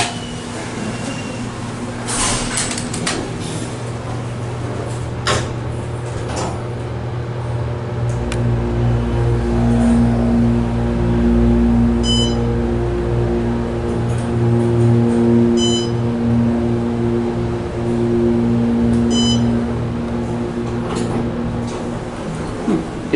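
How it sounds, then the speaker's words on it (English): An Otis Series 6 LVM elevator motor hums steadily throughout the ride in a Disney resort building, with a sustained tonal drone, faint mechanical whine and a few soft clicks and beeps. "you can still definitely hear the motor on this elevator"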